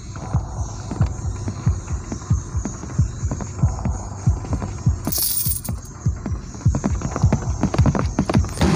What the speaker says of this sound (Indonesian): Ada suara langkah kaki.